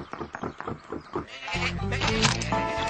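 A sheep bleats in a long, wavering cry after a few seconds of talk, with more bleating layered together, fairly loud and close.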